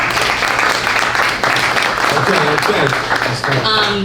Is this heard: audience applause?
yes